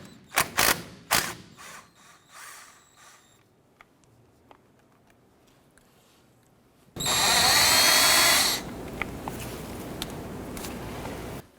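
A power tool buzzes loose a 13mm brake caliper bolt on a 1993-1997 Ford Ranger: sharp bursts of clicks and clanks first, a quiet pause, then a loud sustained whir followed by a lower steady hum.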